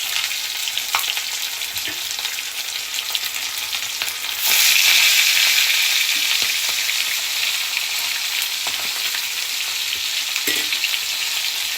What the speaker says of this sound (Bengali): আমার মাছ ভাজা হয়ে যাচ্ছে।